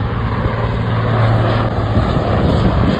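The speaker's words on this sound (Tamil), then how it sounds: "தலை மேலே ஒரு ஹெலிகாப்டர் போகுது" A fire brigade helicopter passes overhead above a house near a lake, a loud, steady rotor and engine drone that holds throughout with a low throbbing hum and no talk.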